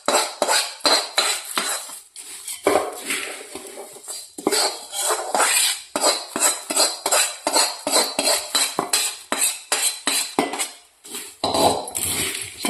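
Chivda snack being tossed and mixed in a pan, repeated rhythmic scraping and clinking of a metal spoon against the pan, close and fairly loud in steady strokes throughout.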